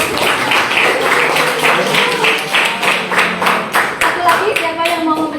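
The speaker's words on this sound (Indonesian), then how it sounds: "Oke, aplaus buat Fakri" A classroom group applauds a student with steady, dense clapping from many hands, close and continuous for several seconds, with voices mixed in underneath.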